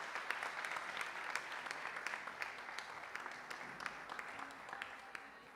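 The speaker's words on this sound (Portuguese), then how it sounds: "Uma salva de palmas para ele." A church congregation claps steadily through a baptism and child dedication service, the dense applause sustained and moderately loud from start to finish with no talking over it.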